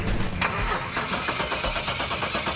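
A car that has sat unused for a very long time cranks and catches, its engine firing into a loud, rough, uneven idle close by with no one talking.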